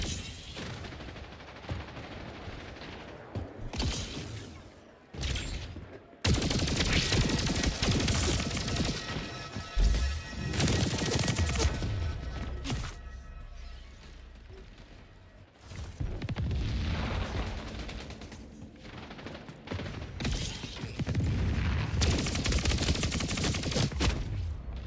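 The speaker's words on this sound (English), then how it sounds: "damn submachine guns, man, I'm telling you" Submachine gun fire in the video game Splitgate 2: loud, rapid bursts of automatic gunfire in several long volleys separated by short pauses, with booms and crashes mixed in, close and dense.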